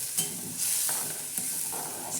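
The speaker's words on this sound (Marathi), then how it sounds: "परत असं हलवून घ्यायचं मस्त वाटण" Ground peanut and green chili paste stirred in a hot pan for a spicy green chili and onion dish, with a close sizzle and soft spoon scrapes, no talking.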